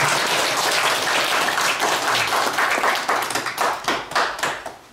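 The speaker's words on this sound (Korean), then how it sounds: "송원 큰 스님께 다시 한번 큰 박수를 드리겠습니다" A crowd applauds steadily, dense clapping that thins into scattered claps toward the end.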